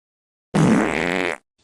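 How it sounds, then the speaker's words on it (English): A dog lets out one loud, drawn-out fart lasting close to a second, heard alone with silence before and after. "did that dog just fart?"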